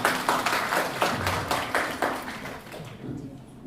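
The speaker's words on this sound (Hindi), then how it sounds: "ताली बजाओ।" Audience in a classroom or lecture setting clapping hands in a quick rhythmic burst of claps that gradually thins out and fades toward the end.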